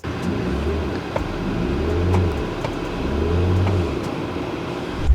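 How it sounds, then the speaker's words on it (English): A Mercedes-Benz EQS SUV plays its customizable synthetic driving sound while accelerating, a steady, swelling electronic hum that rises and falls gently throughout, close and continuous with no voices. "as I'm pressing on the accelerator pedal"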